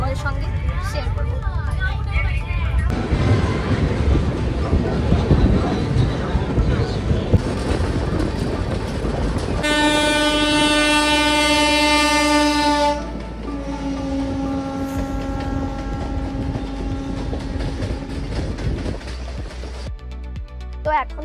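A passenger train on the Asansol to Mathura route rumbles and rattles steadily, with a long, loud horn blast partway through and people talking faintly in the carriage.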